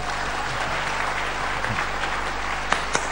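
A large audience at a Thai political gathering gives a loud, sustained round of applause, a thick, continuous clatter of many hands with a couple of sharper claps near the end.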